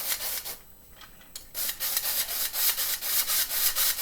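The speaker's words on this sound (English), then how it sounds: "I'm gonna sift this in." Flour sifted through a hand sifter while baking soft pretzels, giving a soft, dry, rhythmic rubbing and scraping that repeats steadily, pauses briefly, then resumes close by with no talk.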